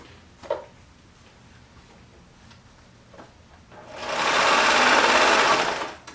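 A sewing machine stitches a cuff to a sweater sleeve. A few faint knocks of handling come first, then a burst of steady, fast stitching runs for about two seconds, close and clear with no talk.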